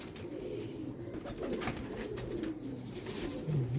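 Low, soft cooing of breeder pigeons in Lahore repeats amid a busy, rustling background, fairly quiet and close.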